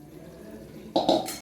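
Hot water is poured into green chili chicken cooking in a pan, a sudden bubbling gush and hiss that starts partway through, brief and close after a quiet simmer.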